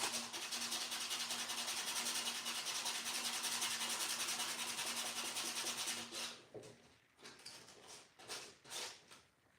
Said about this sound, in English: you gotta hand sand it